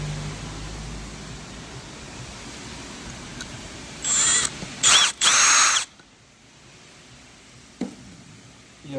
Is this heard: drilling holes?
yes